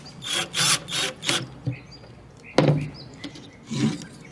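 Pieces are drilled down into wood in a few short bursts with a buzzing, rasping tone, followed by quieter handling knocks and a sharp clunk.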